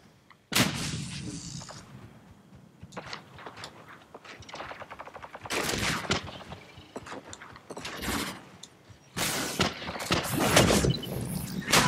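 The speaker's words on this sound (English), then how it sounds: "A grenade." A grenade explosion, a sudden loud blast followed by further sharp bursts and crackling gunfire-like bangs, close and intense, swelling again toward the end.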